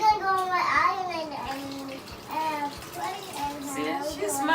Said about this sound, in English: So this is how I wash her hair.